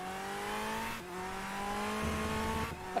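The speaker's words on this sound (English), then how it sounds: "That's a Ferrari engine. I mean, it's based on V12." A Ferrari V12 race car engine heard onboard in a Gran Turismo-style racing game at Sepang drones at high revs with a smooth harmonic whine, dipping briefly at gear shifts and climbing again, loud and close.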